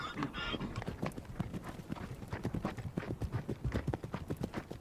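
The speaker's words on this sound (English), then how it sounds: "the Asiatic wild ass, a member of the horse family, to this day still untamed by humans" Hooves of an Asiatic wild ass, a member of the horse family, clip-clopping in a quick, uneven rhythm of many close impacts on hard desert ground, with a brief snort or whinny-like sound near the start.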